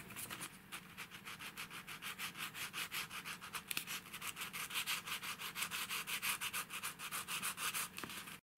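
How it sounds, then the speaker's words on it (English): Rhythmic scratchy sanding strokes on the corners of foam board model bricks, rubbing back and forth close by, steady and even throughout with no talking. "the corners of our brick we light up a little by scratching or sanding it"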